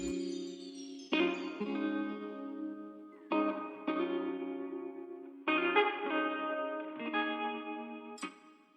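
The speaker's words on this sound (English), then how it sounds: "I added this guitar from Arcade" Guitar from the Arcade plugin playing processed chords with effects and echo, several fresh strums or hits landing across the phrase and ringing out, moderately loud and alone without any voice.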